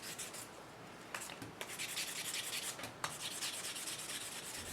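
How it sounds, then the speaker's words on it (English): Knife handle scales, still attached to each other for a camp knife, sanded by hand up to about 400 grit; steady close rubbing strokes with brief pauses, continuous and fairly quiet, no voices. "I'll sand them to their final finish, in this case about 400 grit."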